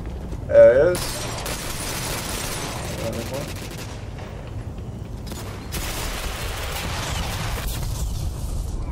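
Shotgun fire in the video game Ghost Recon Phantoms: sharp gunshot cracks and bursts of fire crackle across a busy battle soundscape, with a brief voice near the start.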